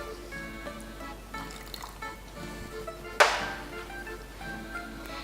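Water is poured into pizza bread dough during mixing, a quiet trickle against a faint background, then a sudden short splash as more goes in.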